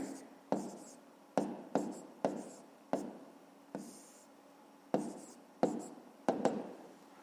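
A pen writes a fifth-grade fraction equation by hand on paper, with about ten sharp, close strokes and scratches spaced irregularly and quiet gaps between them.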